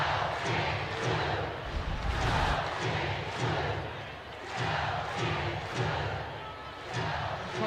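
Crowd roars in a basketball arena during a Kentucky vs LSU SEC women's game with under two minutes left: a dense, loud, sustained din with rhythmic surges and thumps, like chanting or stomping, throughout.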